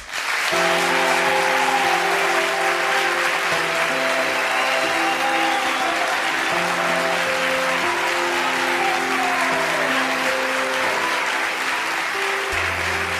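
A studio audience on a TV talk show breaks into long, loud, dense applause for arriving guests, with steady tonal music playing beneath the clapping throughout.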